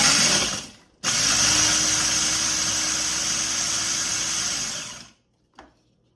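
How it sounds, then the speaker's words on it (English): A food processor chops crackers with a loud, steady whirring drone and low hum. A brief opening burst is followed by about four seconds of continuous running, then it cuts off abruptly. No one talks. "I have my food processor here"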